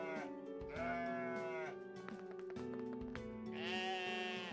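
Repeated bleats from a ram in the game OneShot, several wavering calls in quick succession layered over quiet game music, close and clear with no speech.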